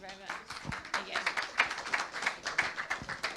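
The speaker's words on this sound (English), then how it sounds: "let's welcome her with a round of applause" An audience at a Visit My Mosque open-day gathering claps to welcome a speaker. It is a steady, fairly close round of applause from a modest crowd, and a voice can be heard over it.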